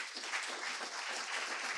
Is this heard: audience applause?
yes